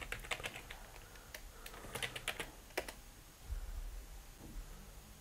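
Quiet keystrokes on a computer keyboard come in short irregular runs, close and faint, as a search term is typed into a word processor's online image search.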